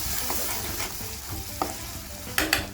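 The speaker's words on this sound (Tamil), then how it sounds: "சேர்த்துட்டு லைட்டாக கிண்டி விடலாம்." Ground masala paste for Kerala-style kadalai curry frying in a pan over sautéed green chillies and bay leaves, with a soft continuous sizzle and a few sharp spoon scrapes from stirring, close and alone.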